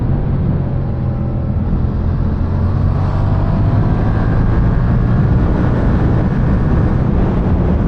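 A 2017 Yamaha MT-07 motorcycle at full throttle, its engine a loud, continuous, close droning roar with a slowly rising pitch under heavy wind rush, steady throughout with no talking.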